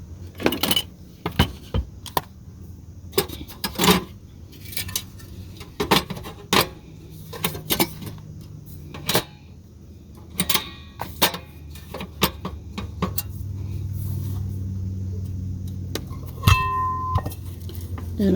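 Metal pots and pans clatter and clink in a camper van kitchen on a rainy day, a quick run of sharp knocks and jangles up close, followed by a steadier low rumble near the end.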